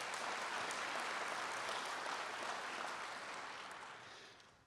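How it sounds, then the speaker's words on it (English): An audience at a State of the City address applauds the Board of Trustees with a steady, dense wash of clapping heard from a distance, fairly quiet, tapering off toward the end with no voices. "I want you to join me in giving them another round of applause right now"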